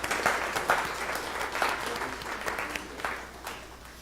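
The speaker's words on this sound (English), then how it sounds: "Let's have one applause for the support of the organizers." Applause from an audience at a complex geometry congress, thanking the organizers, with dense clapping that swells and fades across a few seconds at moderate loudness.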